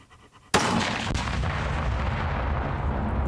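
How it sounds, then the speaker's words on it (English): A sudden, loud explosion bursts in after a moment of quiet, then a heavy roar and rumble rolls on steadily for about three seconds, with no voices. "Explosion."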